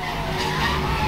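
Car drifting in Need For Speed Hot Pursuit on PC, a steady loud tire squeal with the engine droning underneath, sustained alone for about a second.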